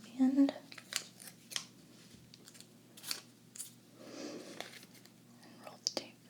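Scissors snip and trim tape while making Jack Skellington Halloween cake pops, a few soft, close cuts spread out amid quiet rustling, with faint whispered speech in the background.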